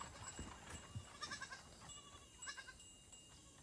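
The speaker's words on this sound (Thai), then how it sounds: "เฮ้ยเฮ้ยแพะร้องแพะร้อง" A goat gives two faint, distant bleats, each a short wavering cry, against a quiet outdoor background.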